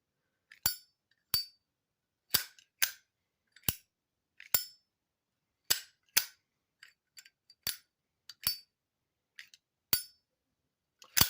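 Two brass Zippo lighters tapped together in a run of sharp, separate metallic clicks with irregular spacing, some duller and thudding, others brighter and ringing, close and alone in silence.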